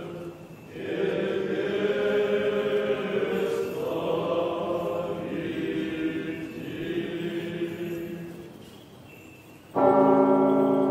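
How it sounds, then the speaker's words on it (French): Church bells ring out at Valaam monastery in Russia during Russian Easter, a steady sustained peal of several overlapping tones for about nine seconds, then a louder, brighter strike near the end. "en attendant que les cloches sonnent"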